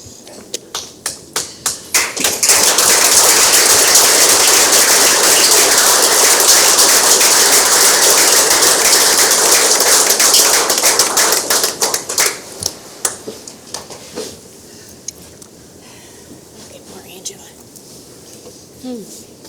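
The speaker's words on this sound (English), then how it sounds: "Let's do one more clap." An audience at a borough council meeting claps: scattered claps build into about ten seconds of dense, loud applause, then thin back out into separate claps.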